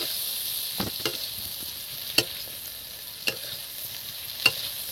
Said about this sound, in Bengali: যত নাড়ছি তত চিংড়িগুলো অন্যরকম কালার হয়ে যাচ্ছে।